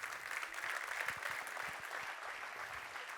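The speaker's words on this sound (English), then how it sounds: "Let's first of all give a round of applause to the two players" Audience clapping steadily after a badminton men's singles session, a dense, even wash of applause held at a moderate level throughout, with no standout voices.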